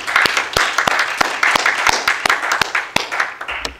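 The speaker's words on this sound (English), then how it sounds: "Let's give our youth another round of applause." Church congregation applause for the youth during a morning worship service, with close, loud individual claps ringing out over a steady background of clapping.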